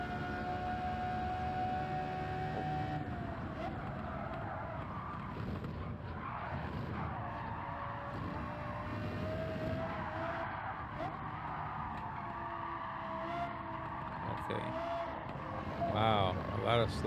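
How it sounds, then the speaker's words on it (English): Race car tires squeal and skid in Gran Turismo 7 over a steady engine drone, with talking throughout and a sharper squeal near the end. "You hear the tires screeching."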